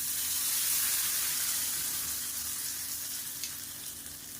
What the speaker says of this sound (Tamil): இப்போ இதில் கடுகு உளுந்து ஒரு வரமிளகா கருவேப்பிலை பெருங்காயம் போட்டிருக்கேன் இப்போ தாளித்து இதில் போட்டுருக்கேன்